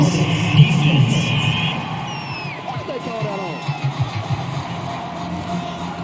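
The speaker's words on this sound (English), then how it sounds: "This home crowd, they're happy with that call." A home stadium crowd at an NFL divisional playoff game roars and cheers after a penalty flag on third down, a broad sustained swell that fades beneath a commentator's talk.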